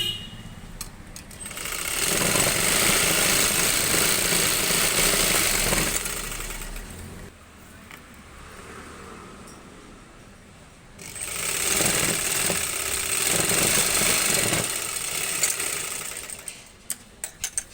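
A sewing machine stitching a salwar runs in two steady, loud bursts of rapid needle chatter, separated by a quieter pause with only faint handling noise, then stops with a few light clicks.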